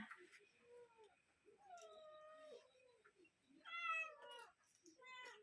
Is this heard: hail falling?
no